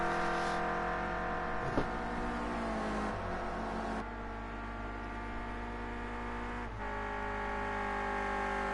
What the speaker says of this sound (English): Hear the exhaust popping and cracking.